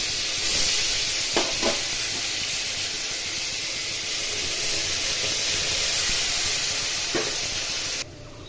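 Onion, garlic, ginger and chili paste frying in oil for a Bengali fish curry, a continuous close sizzling hiss with a couple of brief stirring scrapes, dropping lower near the end, no talk.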